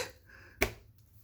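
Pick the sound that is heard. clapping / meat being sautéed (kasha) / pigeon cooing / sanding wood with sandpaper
clapping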